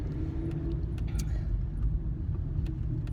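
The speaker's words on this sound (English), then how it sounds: "Hold on, I gotta drive and it's crazy here." A car driving on a busy road in Sigonella, Sicily, a steady low engine and road rumble close by, with faint traffic sounds above it.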